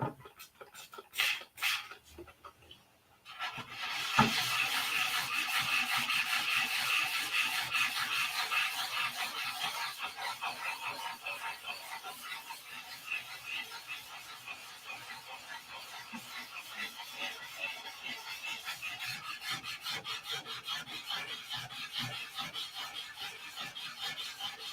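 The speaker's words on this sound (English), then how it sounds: "I really want to start sanding." After a few scattered knocks, a steady rasping scrape starts and continues, the rhythmic friction of sanding wood by hand, close and moderately loud.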